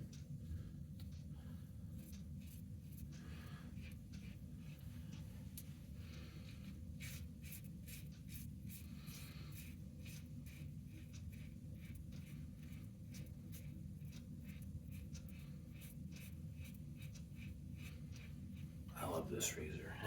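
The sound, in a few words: Fatip Slant open comb razor shaving beard hair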